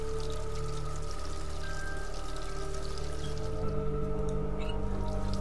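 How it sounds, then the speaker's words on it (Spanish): In The Dream Machine video game, water pours in a steady, continuous stream, moderately loud with a soft bubbling texture, no voices over it. "Le voy a echar agua por si acaso."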